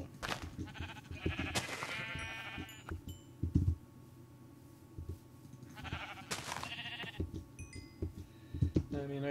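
Sheep in Minecraft bleating in short, repeated calls, a few isolated bursts over a steady low background with some quieter game sounds, no talking.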